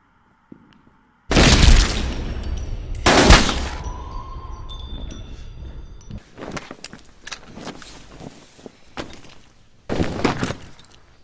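Gunshots in an action film scene, two loud blasts close together near the start followed by a scattered series of fainter cracks and a final loud burst, with no talk.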